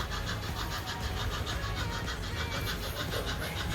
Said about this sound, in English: Hopefully you can hear me over the steam engine.